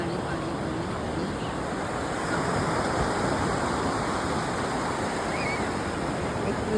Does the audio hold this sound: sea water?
yes